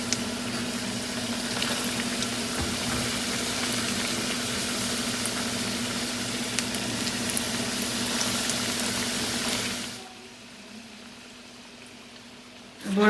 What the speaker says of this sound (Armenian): դնում եմ տապակվելու կոտլետները, կրակը միջին է